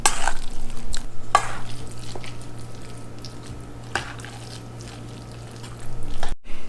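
Wonton dumpling filling being mixed in a bowl, soft wet squishing and scraping strokes with a few sharper knocks, close and fairly loud, ending in a brief pause.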